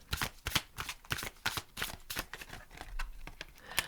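An oracle card deck being shuffled by hand close up, giving repeated crisp riffling bursts and soft slaps in an irregular rhythm, with no talking.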